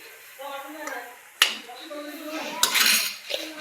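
Maggi noodles being stirred in a pan: sharp metal clinks and scrapes of a utensil against the pan at irregular intervals, close by, with a voice talking throughout.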